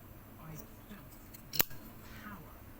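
Scissors cutting through thin, flexible plastic sheet for a DIY graver sharpening template, one sharp snip standing out among faint rustling, with someone talking throughout.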